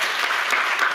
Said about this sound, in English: Y'all need to give that guy another round of applause.